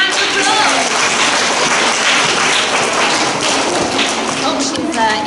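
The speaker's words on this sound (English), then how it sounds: "Can we give Matt a big round of applause" A school assembly audience gives a round of applause for a pupil, a dense, steady wash of many hands clapping close by for several seconds without a break.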